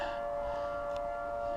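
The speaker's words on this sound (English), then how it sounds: "there goes our siren" A civil-defense style siren sounds outdoors with a steady, sustained tone, level and unbroken, heard from a distance during outdoor tree-cutting work.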